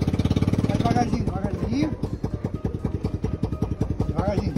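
A motorcycle approaches along a road at night, its engine rising from a distance behind a chugging nearby small car engine, with an anxious voice talking over it.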